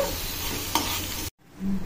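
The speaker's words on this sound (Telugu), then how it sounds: "నేను ఇప్పుడు బౌల్లోకి తీసుకుని మీకు చూపిస్తాను" A spoon scoops homemade milk curry from a cooking pan into a bowl, with a steady soft scraping and stirring texture, then a short pause before a light low clink.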